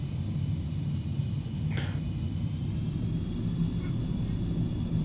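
Simulated Beechcraft in X-Plane 11 taxiing, a steady low engine rumble that stays even throughout, with a brief faint tone in the middle.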